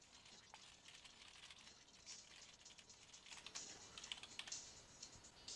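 Fingers tap steadily on a computer keyboard while playing the Mavis Beacon typing game, a quick stream of light clicks that speeds up toward the end, quiet and close.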